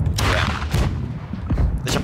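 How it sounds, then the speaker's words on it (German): A ship's cannon in the pirate game Blackwake fires with heavy booming blasts, loud and rumbling, with a second shot near the end and no talking. "Schuss."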